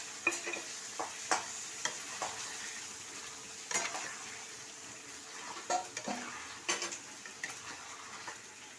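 Poppy seed, green chili and peanut paste frying in a pan with chicken, a soft steady sizzle broken by repeated clinks and scrapes of a stirring utensil against the pan.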